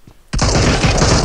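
Gunfire in the mobile battle-royale game PUBG Mobile starts abruptly after a brief quiet moment, then continues as loud, dense, rapid automatic fire for the rest of the clip.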